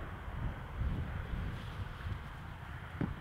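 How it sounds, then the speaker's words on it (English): Outdoor wind buffets a handheld camera microphone, a steady low rumbling roar with gusty swells and a brief thump near the end, with no voices. "I got wind coming in this direction."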